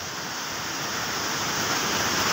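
Fresh water of the river at Bazwall flowing in a steady, broadband rushing wash, close and continuous with a slight swell toward the end, with no voices.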